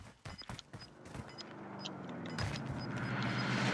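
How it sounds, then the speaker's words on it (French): A car in the video game Warzone approaches, its engine hum rising steadily and growing louder and nearer, after a few faint clicks and taps at the start. "Oui, il y a une voiture. Voiture."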